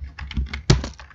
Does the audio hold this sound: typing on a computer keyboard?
yes